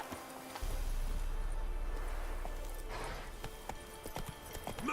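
Hooves of Roach, a horse in The Witcher game, clip-clopping steadily at close range in a loud outdoor scene, the rhythm continuing with a few sharper knocks toward the end, without talk.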